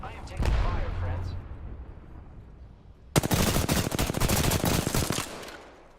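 Video game gunfire: a brief voice and a single shot open, then after a pause a dense burst of rapid automatic fire rattles for about two seconds before tapering off.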